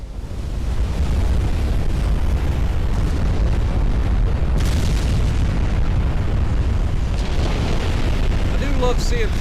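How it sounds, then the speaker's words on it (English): A flash fire explosion rips through a ship in a naval combat game, a sustained, loud, rumbling roar of blasts and booming that fills the whole stretch, with a sharper burst near the end. "Okay, got a flash fire."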